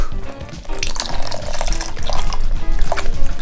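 Coconut milk is poured into a pot for Sarawak laksa, giving a close, continuous liquid splashing and glugging that builds steadily over a few seconds.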